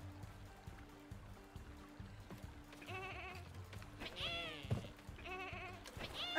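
Sheep bleat repeatedly in the video game Lumberhill, several wavering calls arriving in bursts over a quiet rhythmic music bed, with no one speaking.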